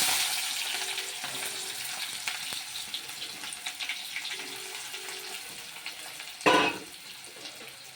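Onions frying in a pan with tomato and raw prawns, a steady close sizzle and crackle throughout, with a sharp louder hiss burst near the end as more is added or stirred.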